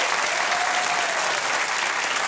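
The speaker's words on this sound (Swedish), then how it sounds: "stor applåd till Jens Hult" Studio audience applause for a guest on a Swedish bingo TV show, a dense, loud wall of clapping from a large crowd, steady and close throughout, with a brief whistle rising above it.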